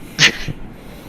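Video game character Carcoon letting out a single short, breathy sneeze, a sharp hissing burst followed by a softer snort.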